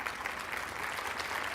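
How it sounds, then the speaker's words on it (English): A conference plenary audience applauds, a steady wash of many hands clapping at moderate distance, unbroken for the whole moment and without speech. "Let's give a round of applause to our DJ"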